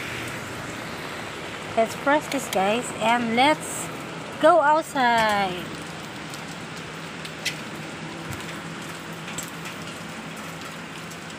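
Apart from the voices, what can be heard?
rain falling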